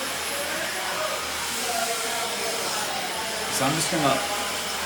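A handheld blow dryer runs on low speed with high heat, giving a steady close-up airy roar throughout while someone talks over it.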